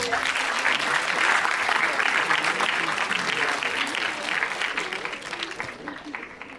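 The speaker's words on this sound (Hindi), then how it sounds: "सो एक बार इस बात पर जोरदार तालियां बजा सकते हैं हम लोग" An audience at a talk session claps loudly and steadily for the whole stretch, a dense wash of many hands that eases slightly toward the end.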